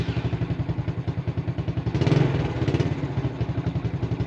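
A motorcycle fitted with a touch-start switch and bypass security switch runs close by, its engine pulsing in a steady idle rhythm with a brief rise in revs midway, no talk over it.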